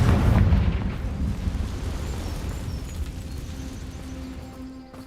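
A Confringo fire-blast spell explodes in the Hogwarts Legacy video game: a loud, rumbling boom at the start that rolls into a long, noisy roar, slowly fading over several seconds with no talk.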